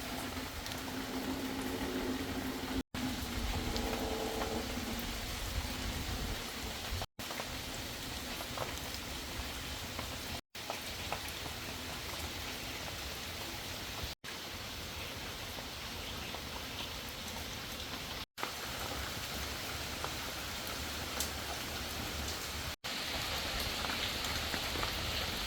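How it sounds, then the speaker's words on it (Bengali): A steady drizzle falls outdoors through a rainy day, a soft even patter on surfaces that runs continuously and fairly faint with no talk, broken by a few brief cuts. "দেখেন সারাদিন টিপটিপ বৃষ্টি করতে আছে।"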